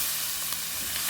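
Carrot and potato sauté in curry in a pan, giving a soft, steady sizzle heard close for a second without talk.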